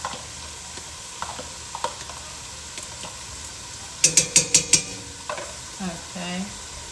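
Garlic goes into a pot for chicken and dumplings, scraped around with a small spoon: quiet scattered clinks, then a quick burst of five sharp metallic taps against the pot, followed by soft stirring and a faint sizzle.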